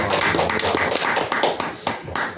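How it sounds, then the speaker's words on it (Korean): Audience applause at a Korean church Bible seminar, a dense, steady patter of many hands clapping at moderate loudness for the whole stretch, with no clear speech over it. "박수 한번 쳐드립니다."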